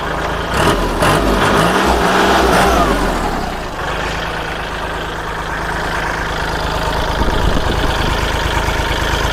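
A used Kubota or Iseki farm tractor engine runs loud and close, revving hard at first, then settling into a steady rumbling idle.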